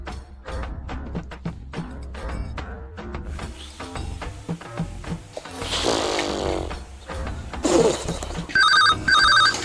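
Telephone ringing in a comedic household scene: a repeated trilling ringtone in bursts toward the end, following a stretch of background noise and rhythmic thumps.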